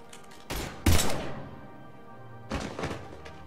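Gunfire in the Mass Effect 3 video game: a couple of short bursts of shots with heavy thuds, one louder blast near the start and a weaker volley later, with no talking.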